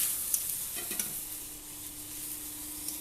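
Fish curry with mustard being sautéed and stirred in a pan, a steady low sizzle with a few scraping stir strokes early on, fairly quiet and close, no talking.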